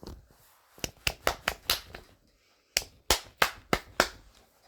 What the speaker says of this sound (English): I will clap my hands right now